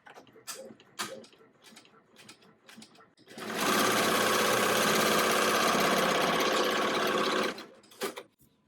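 Embroidery machine stitching an in-the-hoop card wallet, a steady loud mechanical whirring run of about four seconds, with quieter stitching taps before and after.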